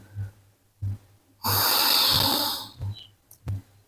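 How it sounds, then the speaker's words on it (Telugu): A long, steady exhale through the left nostril during a breathing exercise, heard close as a sustained breathy hiss lasting about a second, between softer short breaths. "ఎడమవైపు నుంచి కింద గాలి పూర్తిగా వదిలేండి."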